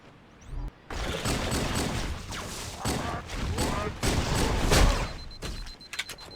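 Rapid bursts of pistol fire from the Halo SPV3 VR shooter, a dense run of loud sharp shots over a few seconds with game noise underneath.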